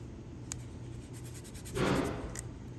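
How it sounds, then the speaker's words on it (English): Masking tape pulled off the roll and pressed down for a freehand wood inlay: a short, close burst of tearing, rasping noise over a quiet room with faint scattered clicks. "Now I tape the other side."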